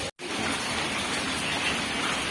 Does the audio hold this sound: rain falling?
yes